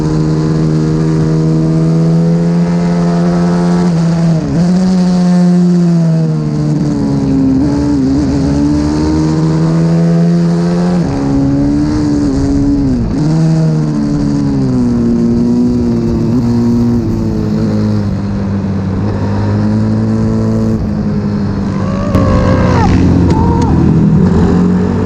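Pit bike engines race around a kart track at Lydd, sounding as a loud, continuous rising and falling buzz as the bikes accelerate and shift close by, with some speech faintly underneath.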